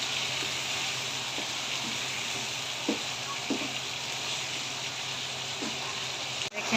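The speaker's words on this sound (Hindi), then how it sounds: "इसको भी 2 से 3 मिनट अच्छे से फ्राई कर लेंगे" Garlic ginger paste frying in hot oil for a chicken karahi, a steady close sizzle with occasional soft stirring taps, continuous and alone without talk.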